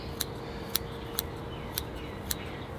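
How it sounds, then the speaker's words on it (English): Curved scissors snip moss on a bonsai forest planting, with five crisp, close metallic clicks spaced about half a second apart over a quiet room. "I got my curved scissors. They're fantastic for pruning moss."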